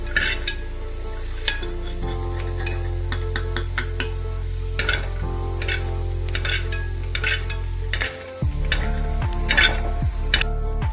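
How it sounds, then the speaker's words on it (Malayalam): Steady sizzling of coconut slices frying in ghee, with repeated scraping and clinking of a spoon stirring in a pan, close by with no voices. "ഇത് നമ്മൾ നെയ്ക്കകത്തിട്ടാണ് ഇത് ഇളക്കി എടുത്തുകൊണ്ടിരിക്കുന്നത്."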